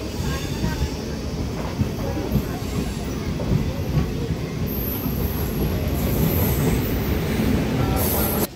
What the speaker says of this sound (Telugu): వెల్దుర్తి నుండి అయితే మన ట్రైన్ అయితే బయలుదేరిపోయింది